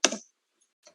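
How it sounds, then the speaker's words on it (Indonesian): A few keystrokes on a computer keyboard: a sharp cluster of clicks at the start, then silence and one faint tap near the end, with no talk. "Bentar, saya ketikkan dulu."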